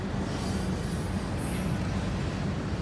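Freight train of autorack cars rolling past, a steady loud rumble of wheels on rail with faint high squeals above, continuous and close.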